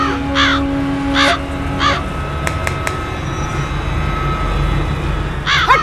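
A crow caws in loud, close, repeated harsh calls, first in a quick series, then a pause and another burst at the end, over a steady low background rumble.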